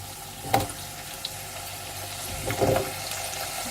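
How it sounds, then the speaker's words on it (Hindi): Potato pieces dropped into hot oil with lightly fried garlic, sizzling steadily with two louder bursts of crackle as they hit the pan, no talking. "इसके अंदर मैं अब डाल देती हूँ ये आलू"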